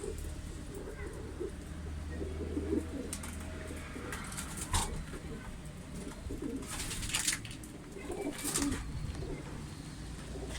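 Pigeons coo repeatedly at a loft on a rooftop platform built over a shanty house, soft throaty calls layered over one another against a low outdoor hum, with brief faint voices now and then.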